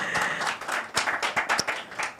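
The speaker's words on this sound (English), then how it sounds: "A round of applause now." Brief round of applause at a peace initiative event, scattered hand claps rising over a low murmur, moderately loud and close, lasting only a couple of seconds.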